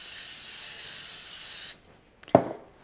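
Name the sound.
cooking spray spraying baking pan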